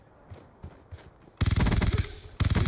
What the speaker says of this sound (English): Stop shooting me in the face!